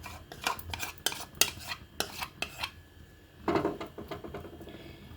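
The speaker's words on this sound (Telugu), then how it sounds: "ఇదంతా మొత్తం కలిసేలా కలుపుకోవాలి." Wheat flour mango halwa batter being stirred with a spoon in a pan, a series of close metallic scrapes and clinks in an irregular rhythm, with a brief pause before a final sweep.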